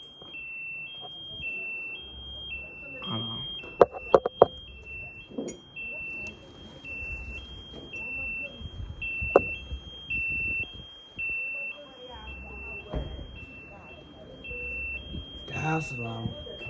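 A house alarm sounds a steady, repeating two-tone electronic beep that alternates high and low throughout, with people talking and occasional thumps and knocks nearby.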